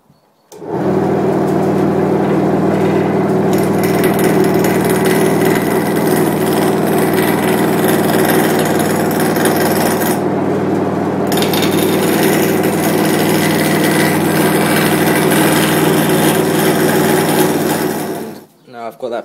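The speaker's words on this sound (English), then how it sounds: "I'm just going to take the roughing gouge and true it up" Wood lathe spinning a goblet blank on a faceplate while a roughing gouge trues it up, giving a steady loud whirring cut with scraping grit that runs nearly unbroken for about eighteen seconds, with a brief dip midway.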